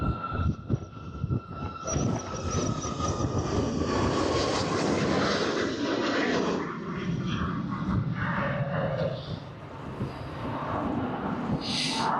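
A jet engine roars steadily as a heavily loaded airplane slowly accelerates down the runway at Fuerteventura Airport, a loud sustained rumble and whine filling the cabin.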